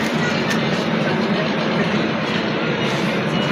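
The Jammu Tawi Express special train rolls through Roza Junction in Uttar Pradesh, a steady close rumble of wheels and wagons with a broad rushing hiss and faint rhythmic clatter, no voices.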